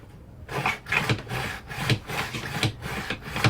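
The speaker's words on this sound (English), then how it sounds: "The thing about deburring is to make absolutely sure" A chisel is rubbed back and forth on a flat sharpening plate to remove the burr, making about six rhythmic rasping strokes, close and clear with no talk.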